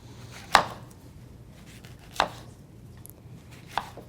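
A knife chops peaches on a cutting board in three sharp, well-spaced strikes, close and distinct with quiet room tone between them.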